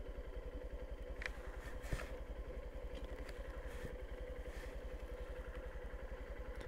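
A Honda CB125F motorcycle engine running in gear, giving a steady, rapid low pulsing beat with faint clatter throughout, close and moderately quiet, with no talking.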